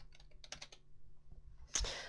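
Quiet, close taps of typing on a computer keyboard, a quick irregular burst of keystrokes followed by a louder click at the end.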